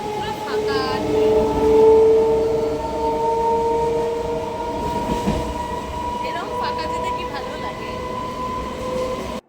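A nearly empty train rumbles steadily along with a droning hum and faint rattling, a continuous loud interior ride noise throughout.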